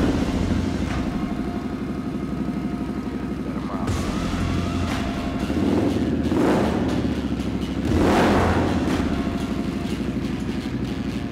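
A custom Harley-Davidson Pan America 1250 "Hooligan Build" motorcycle engine idles close and loud with a steady rumble, swelling into two revs that rise and fall.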